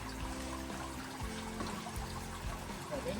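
Water drains steadily from a swimming pool during its weekly cleaning, a continuous pouring and trickling wash that stays close and even throughout without letup.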